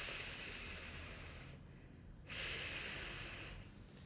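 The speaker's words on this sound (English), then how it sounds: "our last animal is a snake and its sound is" A snake hisses in two long, loud breathy bursts, each about one and a half seconds, separated by a short silence, with nothing else heard.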